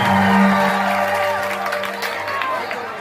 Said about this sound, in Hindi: एक बार ताली पुनः बजाएंगे आप लोग को